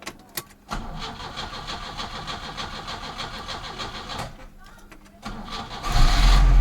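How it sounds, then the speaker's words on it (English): A Peugeot 505 2.0 engine, newly converted from a single to a double-barrel carburettor, cranks in short bursts, then catches and settles into a close idle before revving up, with someone talking over it. "Alright, let's start."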